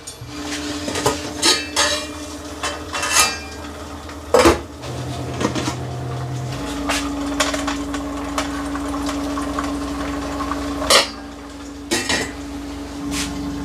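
Metal pans and a wok clatter and clank on a stovetop while cooking nasi tiwul, with sharp scattered knocks over a steady low burner hum.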